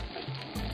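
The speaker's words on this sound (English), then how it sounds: "You can hear it sizzling." Butter sizzles steadily in a warm pan, melting before onions are sautéed, a close continuous frying hiss with no talk.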